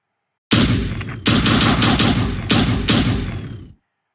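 Gunfire in a student-made arena shooter game as FPS players fire on enemy workers and fighters: loud close bursts of rapid shots in about four volleys, each strong onset fading slightly, with no talk.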